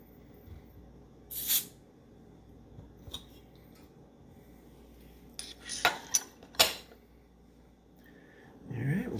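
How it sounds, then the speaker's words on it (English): A beer bottle of American-style lager is opened with metallic cap scrapes and clinks, then a sharp hiss and pop, a few quick bursts close by, and a little speech is mixed in. "Let's pop it open."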